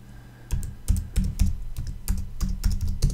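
Someone types on a computer keyboard in quick, uneven bursts of close, clacking keystrokes with short pauses between them. No voices are heard.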